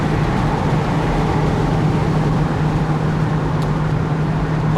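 Porsche 981 Boxster S engine on the motorway, a steady droning hum with constant road and wind rumble, loud and close, held at an even level throughout.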